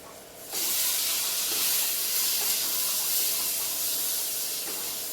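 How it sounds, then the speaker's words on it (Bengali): Fish oil hitting a pan of fried onions sets off a loud, steady sizzling hiss that starts abruptly and carries on unbroken, with no talking over it. "পেঁয়াজটা ভাজা হয়ে গেছে এবার আমি দিয়ে দেবো যে মাছের তেলটা"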